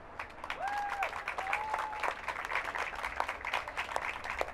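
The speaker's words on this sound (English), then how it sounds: "let's give a round of applause for actress Finola Hughes." An outdoor crowd at a Hollywood Walk of Fame ceremony applauds an actress, with steady dense clapping throughout and occasional whistles rising above it.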